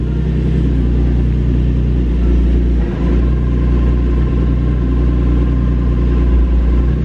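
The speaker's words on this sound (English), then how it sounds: "You like that clutch noise?" A Nissan G35 coupe engine idles with a steady low rumble, close and loud, with a faint mechanical clutch whir running through it and no voices.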